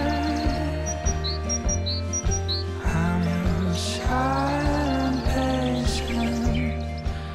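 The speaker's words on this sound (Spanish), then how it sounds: "las especies de aves que se están detectando son las aves más típicas del olivar" Wild birds chirp in short, bright bursts in an olive grove with grassy ground cover, set against a steady, rhythmic background drone.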